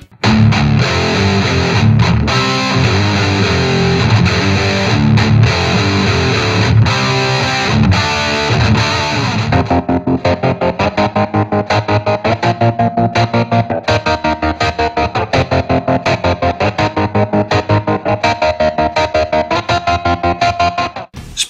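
Distorted electric guitar plays heavy amp tones through a Line 6 Spider IV modeling amp, first as a dense sustained passage, then as a tight, rhythmic chugging riff with no voices.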